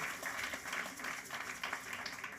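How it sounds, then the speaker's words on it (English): Steady applause from a seated audience at a community arts talk, fairly faint and continuous throughout with no voices standing out. "So just give him another round of applause."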